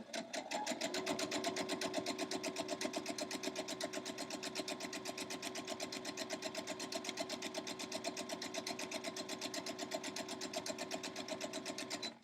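Domestic sewing machine running steadily while stitching a quilt block seam for a scrappy four-patch heart, a fast even mechanical whir held close and loud for the whole stretch with no talk over it.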